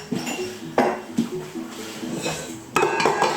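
Soft butter and sugar going into a mixing bowl for banana bread, with a few clinks and scrapes of a utensil against the bowl, close and moderately loud.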